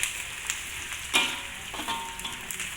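Onions frying in a pan for a Tamil-style nasi lemak sambal, a quiet hissing sizzle with a few soft stirring knocks, close but faint.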